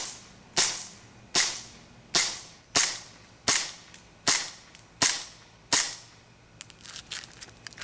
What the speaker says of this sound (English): Blowback action, you have some recoil, you have the slide functioning back and forth.